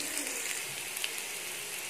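Potatoes sauté in coconut oil in a pan, giving a steady close sizzle with faint crackles throughout, no talk.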